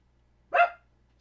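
A single sharp dog bark, loud and close, rings out once against near silence.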